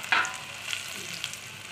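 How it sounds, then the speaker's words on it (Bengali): Onion frying in very hot oil in a pan for a pangash fish curry, a soft continuous sizzle with a sharp splash or clatter near the start and a few small crackles after, no talking. "পেঁয়াজটা হালকা একটু ডিপ ফ্রাই হয়ে যাক। তেল খুব গরম আছে"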